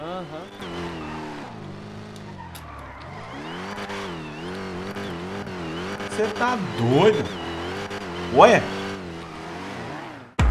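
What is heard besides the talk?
Dodge Dart engine revving in GTA video game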